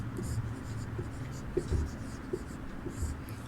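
Pen scratching as an answer is written by hand during a Sanskrit lesson, a steady faint scribbling texture with small taps, quiet and close, with no talking.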